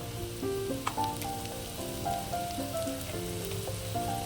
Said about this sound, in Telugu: ఆనియన్స్, పచ్చిమిరపకాయలు వేయించుకోవాలి.